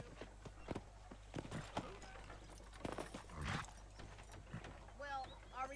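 Rhythmic clip-clop of horse hooves in the video game Red Dead Redemption sounds under speech and a steady low hum, with soft chirps near the end.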